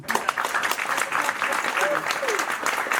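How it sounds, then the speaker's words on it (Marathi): Crowd applause at a birthday dance party for the third-place winner of a dance competition, steady clapping throughout with a few voices over it. "टाळ्या वाजवा हिमायसाठी"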